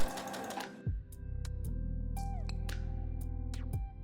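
A sewing machine stitches a new skirt layer onto a bodice in a steady, fast mechanical whirr lasting a few seconds, with brief clicks and rustles before and after.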